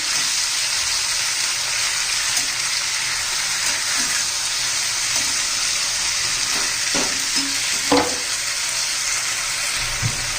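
Peas and potatoes are sautéed in a pan for a Maharashtrian matar-batata bhaji, with a continuous, close, hissing sizzle and occasional scraping stirs, and no talking.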